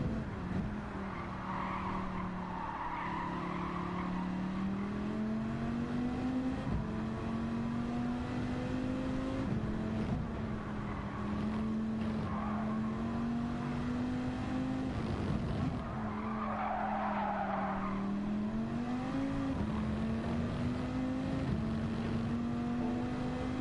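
Race car in Gran Turismo 7 during a manufacturer-series race, running traction control at level one, engine droning steadily with rising and falling revs and bursts of tire skidding, loud and continuous with no talk.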